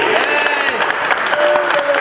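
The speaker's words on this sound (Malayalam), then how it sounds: "എല്ലാവരുടെയും ഒരു മനോഹരമായ ഒരു കയ്യടി" Applause rings out across a hall for the mixed doubles badminton prize winners at a prize distribution, a steady, full burst of clapping with faint crowd murmur and voices underneath.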